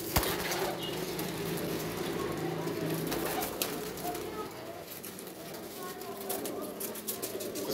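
Kasuri pigeons coo at a breeder's loft in Faisalabad, with soft, low cooing mixed into steady background noise while people talk throughout.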